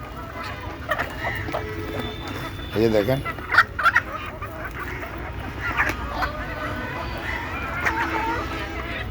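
Native chickens cluck and chatter at close range during afternoon feeding, scattered bursts of fowl calls around a person who talks briefly over them.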